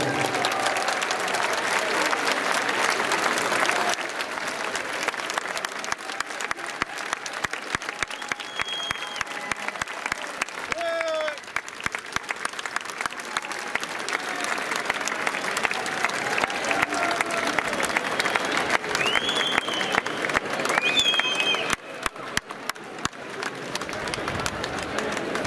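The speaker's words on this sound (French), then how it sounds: "Je vous demande s'il vous plaît d'applaudir Jacques Bompard et les élus qui l'entourent." Audience applause fills a hall at a mayor's speech marking twenty years in office, dense steady clapping sustained throughout with a few louder bursts, fairly close and loud, with occasional bird chirps faintly audible.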